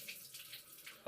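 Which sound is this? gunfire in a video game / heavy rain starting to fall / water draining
water draining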